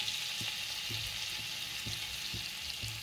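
Cumin seeds and chopped garlic sizzle loudly in hot oil on a tava, a dense continuous crackle broken by a few soft rhythmic scraping stirs.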